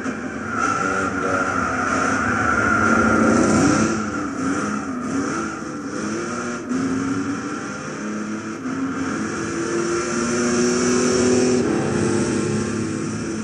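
A 1970 Dodge Charger 440 R/T V8 in Gran Turismo 6 at Tsukuba circuit in Japan, engine droning and rising through revs with gear changes and repeated swells of acceleration, loud and continuous.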